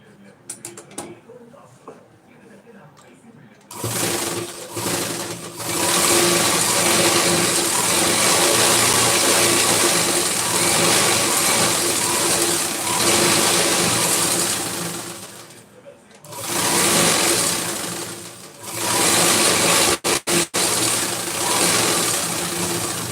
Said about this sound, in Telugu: దీని మీదే మళ్ళీ డబల్ స్టిచ్ వేసుకుంటూ రావాలి